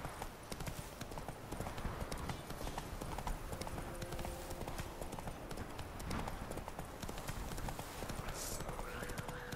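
Horse hooves trot in a steady clip-clop rhythm in The Witcher 3 video game, continuous and fairly faint under game ambience, with brief tonal game sounds mixed in.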